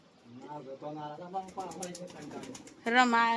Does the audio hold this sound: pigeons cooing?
yes